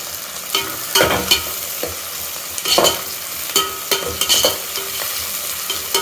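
Onions sautéing in a pan with mint and coriander leaves for Tamil vada curry, a steady sizzle under repeated scraping stirs and clatter of a spoon against the pan, close and fairly loud, no talking.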